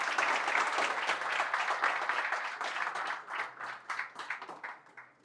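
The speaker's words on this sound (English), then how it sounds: "Can we have a huge round of applause to welcome him?" An audience at a mentoring session gives a sustained round of applause to welcome a guest, dense clapping that gradually thins into scattered individual claps toward the end.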